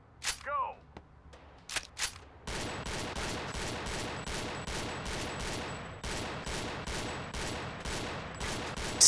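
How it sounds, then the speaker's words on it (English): Pistol fire in the Gun Club VR shooting game at rotating sideshow targets: a few scattered shots open, then a fast, steady run of sharp shots repeats for several seconds, loud and close. "Let's do one more go with a pistol here."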